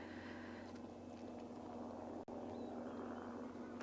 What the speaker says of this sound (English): They don't know what to do with the flight noise.